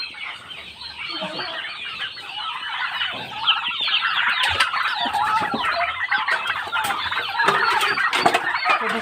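A flock of hybrid turkeys on a farm clucks and chatters continuously, many overlapping calls and gobble-like bursts close by and fairly loud, with no talk over the birds.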